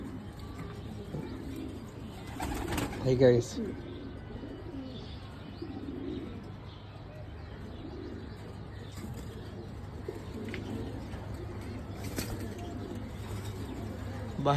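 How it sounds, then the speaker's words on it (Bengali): Pigeons in a loft coo in low, repeated throaty phrases at a steady pace, with a brief burst of wing flapping and chirps early on; someone speaks briefly over them. "কিছু কবুতর পেয়ার করা হয়েছে আর কিছু কবুতর আছে"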